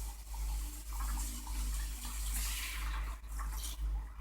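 Water pours steadily into a cooking pot for cabbage, a continuous splashing rush heard close up without speech.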